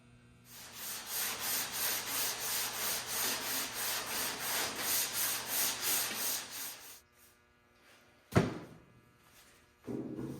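Block sanding glazing putty on a Chevy C10 fender, a steady rhythmic back-and-forth scrubbing of about a dozen close strokes, then quiet with a sharp knock and some faint handling noise.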